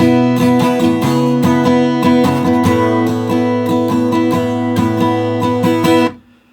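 Strummed acoustic guitar chords from the interlude of a song, a steady rhythmic pattern of bright chord hits played close and loud, ending with a final ringing stop.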